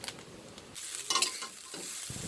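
Chow mein being stir-fried in a pan with salt, vegetable spice, ground pepper, fried egg and fried peanuts, giving a soft sizzle broken by a few short scraping stirs.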